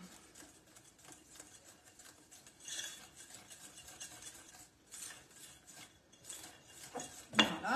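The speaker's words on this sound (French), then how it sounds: "on mélange hein, jusqu'à ce qu'on ait quelque chose de bien homogène" Donut dough with yeast gets mixed in a bowl, giving soft scraping and clinking of a utensil against the bowl in uneven bursts, with a louder knock near the end.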